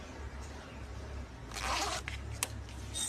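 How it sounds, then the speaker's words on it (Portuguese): Zipper being handled while it is sewn onto fabric, quiet near rustling followed by a brief rasping zip run and a couple of short scrapes and clicks. "a gente já vai fazer a colocação do zíper"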